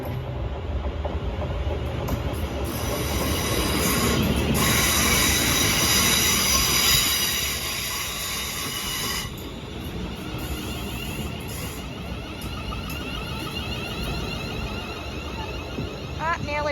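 A Class 380 electric train to Largs passes through Kilwinning station, a loud, close, sustained rumble with squealing wheels and clattering rail noise that eases slightly toward the end, with a voice speaking over it.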